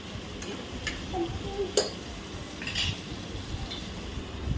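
A spoon stirs onion, tomato and salt in a pan, making a few faint scrapes and light metallic clicks over a low steady background, quiet and close with no voices.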